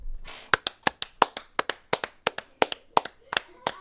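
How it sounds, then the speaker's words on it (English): A few people clap together in a small room for New Jersey, a run of sharp, close hand claps in an uneven rhythm, roughly a dozen and a half over a few seconds, with no talking. "round of applause real quick"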